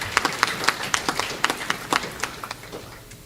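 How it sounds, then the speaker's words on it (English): Audience applauding at an awards and closing ceremony for an under-19 cricket championship, a burst of sharp irregular claps that peaks early and slowly thins out over a few seconds. "Give her another round of applause."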